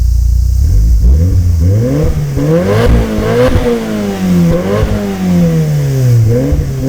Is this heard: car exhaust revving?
yes